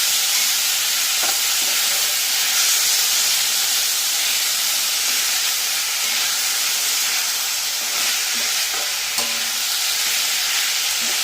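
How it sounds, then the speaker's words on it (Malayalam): Chopped tomatoes sauté in a pan for a chicken curry, giving a steady, loud broadband sizzle and hiss with occasional faint scrapes of stirring, close by and with no voices. "അരിഞ്ഞു വെച്ചിരിക്കുന്ന തക്കാളിപ്പഴം കൂടെ ഇട്ട് നന്നായി വഴറ്റിയെടുക്കും"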